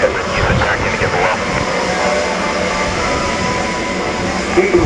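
A Boeing B-17G Flying Fortress drones past at the RIAT air show in Fairford, its piston engines giving a steady, loud rumbling roar with a broad hiss of wind and crowd ambience.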